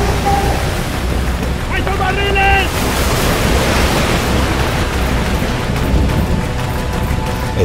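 Stormy sea waves surging and crashing in a continuous roar with wind, off the coast of Ireland; brief faint tonal sounds rise over the churning water.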